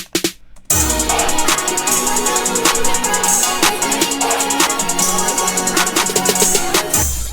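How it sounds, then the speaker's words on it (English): A programmed snare roll in a hip-hop beat sounds out alone, a rapid stream of hits running for several seconds with rising intensity before cutting off at the end of the bar. "And last thing I have is this snare."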